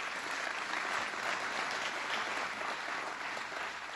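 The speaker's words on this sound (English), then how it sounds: "let's give them a round of applause" Audience applause for local officials at a State of the State address in Rockland County: steady, dense clapping from a large crowd, even and sustained throughout, with no voices over it.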